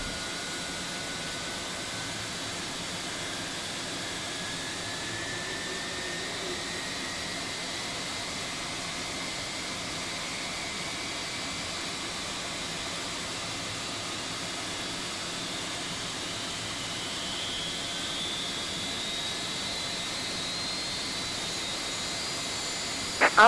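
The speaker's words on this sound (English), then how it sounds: "Okay, engine number 1 now coming to life." A jet engine spools up in the X-Plane 11 flight simulator, a steady broadband roar with a faint rising whine that climbs slowly throughout, even and sustained with no voices.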